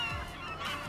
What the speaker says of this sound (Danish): De larmer af helvede til de måger der.